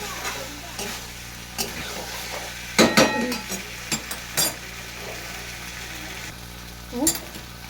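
Chickpea ghugni curry is sautéed in a pan: a steady sizzle runs under repeated scraping stirs and spoon knocks against the pan, with a cluster of louder clatters in the middle and a faint voice now and then.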